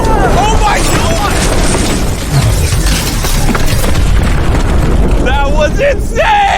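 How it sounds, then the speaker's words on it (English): The world's tallest giant domino topples with a heavy, booming thud, a loud broadband crash that fills the whole stretch while excited voices shout and whoop nearby. "Down goes the domino!"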